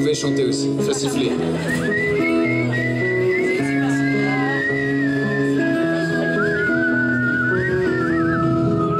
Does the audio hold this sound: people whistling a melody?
yes